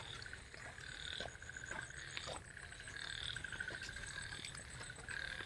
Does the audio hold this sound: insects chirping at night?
yes